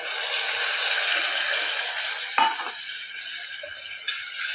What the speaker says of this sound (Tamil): இதை நல்லா பச்சை வாசனை போகிற வரைக்கும் நல்லா வதக்கி எடுத்துக்கலாம்